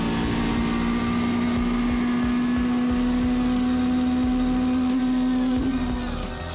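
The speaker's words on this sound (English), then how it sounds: "have a little bit of a listen to 4 litres of billet 4-cylinder down the main straight here" Onboard a rear-wheel-drive race car, a 4-litre billet four-cylinder engine drones loudly and steadily down the main straight, with its pitch climbing slightly before easing off near the end.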